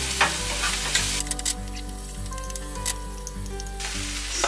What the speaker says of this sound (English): my quinoa over here, right here, it's actually ready to stir fry with this